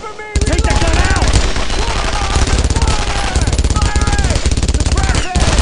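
Machine gun fire crackles through a World War II firefight in Brothers in Arms: Road to Hill 30, rapid bursts loud and continuous, mixed with gunshots and explosions while soldiers shout orders over it.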